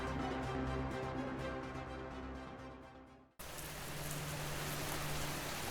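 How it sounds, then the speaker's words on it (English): Rain in the Amazon rainforest falling as a soft, continuous patter with a faint tonal hum underneath, briefly fading out before the hiss of the downpour returns at similar low level. "daily rains become increasingly intense and frequent"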